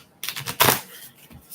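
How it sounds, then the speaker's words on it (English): Oracle cards shuffled by hand in a short burst of papery riffling and slapping, close and fairly loud, with a brief softer patter near the end. "I'm still shuffling"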